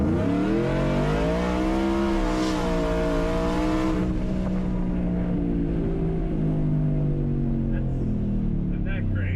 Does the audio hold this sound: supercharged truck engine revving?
yes